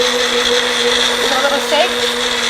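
A blender whirs steadily at high speed, chopping garlic and cilantro, a loud continuous motor whine with faint speech over it.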